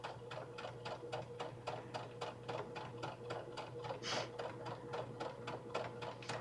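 A serger sewing machine top-stitching little boys' shorts, running at a quiet, even pace with rapid regular stitching pulses and a low motor hum throughout, with no talk.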